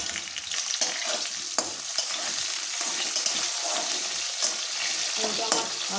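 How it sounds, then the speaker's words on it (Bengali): Cubed potatoes frying in hot oil with dried red chilli, cumin and a little salt: a loud, steady, crackling sizzle close by, broken by scraping stirs throughout. "আলুটা আমার ভালো করে ভাজা হতে থাক আর সেদ্ধ হতে থাক"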